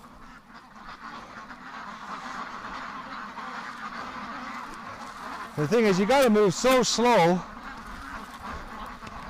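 Free-range ducks quacking in a short, loud burst of several harsh calls close by, while someone talks over steady outdoor background noise.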